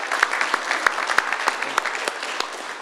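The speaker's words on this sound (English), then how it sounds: "We have a round of applause." At a Filipino community center town hall, a modest audience applauds the food donors, with scattered distinct claps over a thinner patter of clapping, fairly close, with no speech over it.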